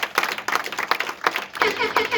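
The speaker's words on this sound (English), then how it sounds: "Clap for Green Leaf International now." An audience at a Green Leaf International business presentation breaks into brisk, uneven clapping, a dense patter of hands close by with what may be voices mixed in.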